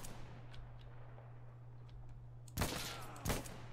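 Two sharp gunshots from an AUG or M110 rifle in the video game Insurgency: Sandstorm crack out near the end, spaced under a second apart, over a steady low hum and quiet background.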